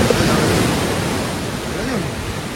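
Water rushes steadily beneath, close and loud, in a continuous broadband wash with no pauses, much like surf.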